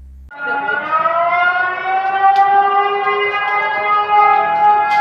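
A loud, sustained evacuation siren in Dingalan wails steadily during a typhoon after a brief quiet start, its harmonic tone holding without a break.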